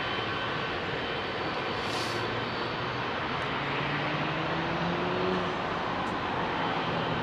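A Boeing 777 airliner passes over Heathrow runway 27R, a broad steady engine roar building gently with a faint whine riding through it, heard at a moderate distance with no talk.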